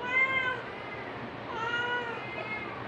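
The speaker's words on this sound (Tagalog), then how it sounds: "Ayun yung pusa, oh, maingay." A cat meows loudly and insistently in a kitchen where jackfruit is being cooked, giving two drawn-out, wavering cries close by, each about half a second long.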